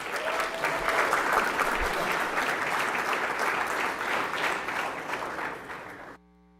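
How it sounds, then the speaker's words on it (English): Sustained applause from a school board meeting audience honoring students' academic achievement, dense and steady for about six seconds before cutting off abruptly. "let's give them a big round of applause"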